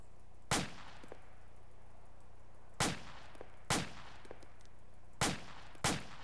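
Five sharp semi-automatic shots from an M16A4 rifle in the military shooter game ARMA 2, spaced irregularly a second or more apart, each a loud crack with a short ringing tail over quiet background hum.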